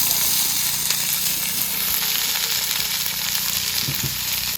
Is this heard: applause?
no